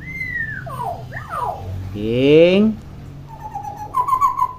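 A talkative hill myna gives loud, shrill whistling calls and chattering sweeps in short bursts, close to the listener, between a person's nearby speech.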